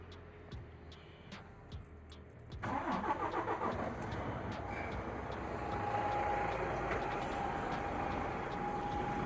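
A DAF truck engine with a fuel pressure fault cranks and starts, its sudden roar then settling into a steady, loud idle with a faint whine.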